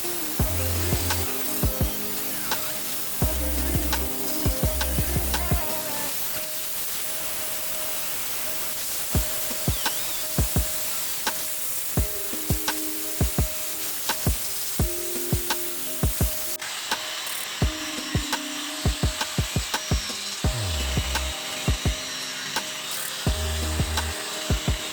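A small angle grinder disc cuts a hole for an exhaust fan on a camper van cabin build, producing a harsh, steady, loud grinding hiss that runs continuously with scattered clicks and knocks.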